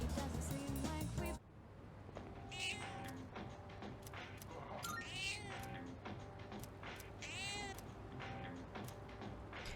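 A cat in the video game Persona 3 Reload meows repeatedly in short, rising calls over steady background music, several distinct mews spread across the stretch after a brief musical intro.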